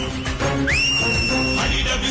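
A loud rising whistle blast rings out once and holds steady over a noisy, chanting crowd at a Tamil political rally.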